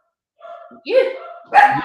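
A dog barks several times close by, in short, sharp yips and woofs during a casual indoor conversation.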